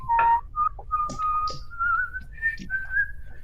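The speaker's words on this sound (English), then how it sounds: "If you are going to whistle the Outlander intro to me, you need to do it like the entire thing from start to finish" A person whistles the Outlander intro tune, a clear melodic line of sustained and gliding notes with short breaths between phrases, close and alone.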